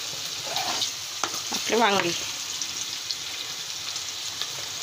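Brinjal and mixed vegetables tipped into hot tempering oil with curry leaves, giving a steady close sizzle and hiss throughout, with one brief spoken word over it.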